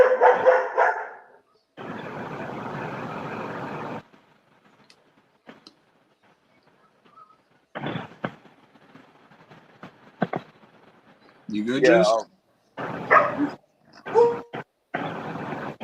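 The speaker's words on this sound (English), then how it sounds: "You got the dog barking in the background" A dog barks in bursts from the background, with several sharp yips and barks near the end, between stretches of quiet and broadband noise, while people exchange a few brief words.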